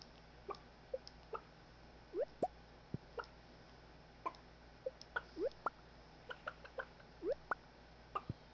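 Chickens clucking in the farming video game Stardew Valley, a series of short separate clucks and chirps spread irregularly over a faint steady background hum, quiet and with no talking.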